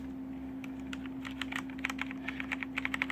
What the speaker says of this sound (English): The K95 almost sounds like the G.Skill one because they are the other version of the Cherry MX Reds.